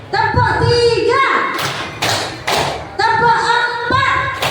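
A few sharp, separated hand claps in a counted classroom clap game, interleaved with someone speaking and singing-style counting; the claps land as bright bursts between phrases, close to the microphone.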